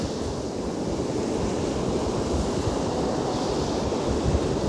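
Rough winter sea at Hashish port: a constant, loud roar of crashing surf mixed with wind buffeting the microphone, steady throughout with no pauses or voices.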